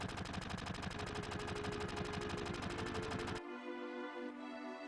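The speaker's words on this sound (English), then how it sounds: "He's gotta shoot in the air." Rapid automatic gunfire from Barret firing his arm gun into the air in Final Fantasy VII, a dense, loud burst of shots that cuts off abruptly, leaving a lingering ringing tail.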